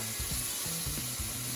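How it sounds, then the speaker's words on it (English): Shrimp sizzle and crackle in hot frying oil, a steady close hiss with irregular popping bursts throughout. "It's a really good sound and sizzle."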